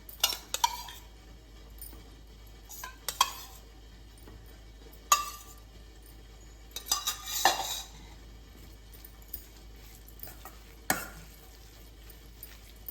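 Beetroot pachadi is stirred with curd in a pan: a spoon scrapes and clinks against the metal in scattered bursts, close and clear, with quiet pauses between strokes.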